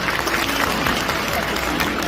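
Wedding guests clap in a dense, steady burst of applause filling the hall, loud and continuous throughout, with no talk over it.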